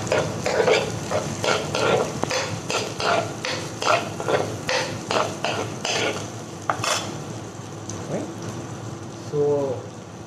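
Mushrooms with basil, salt and pepper cook in a pan with a low sizzle beneath repeated rhythmic stirring and scraping of a utensil against the pan, close by, with a voice speaking briefly near the end.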